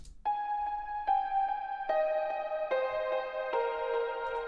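Virtual piano sounds through automated, agitated string processing at the close of an electronic track, giving a dramatic tone, a slow sequence of six sustained notes at moderate level with no speech.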